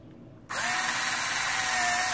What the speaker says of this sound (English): So go ahead and firmly place the drill bit right there on that rivet.